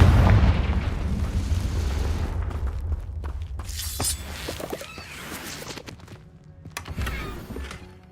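Confringo fire-blast spell in Hogwarts Legacy: a loud burst opening with a heavy boom, then shattering, crackling debris and scattered sharp impacts that fade and swell again near the end.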